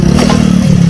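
A motorcycle rides up a slope, its engine giving a loud, steady, close-up drone with some clattering throughout.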